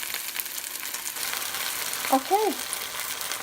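Beef sizzles in a pan for a stir fry, a steady close crackling hiss with a brief faint voice-like murmur near the end.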